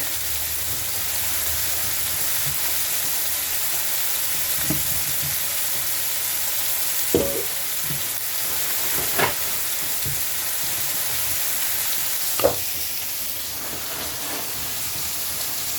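Mushrooms fry in a pan with a continuous crackling sizzle, joined by a few faint clicks and knocks of kitchen utensils.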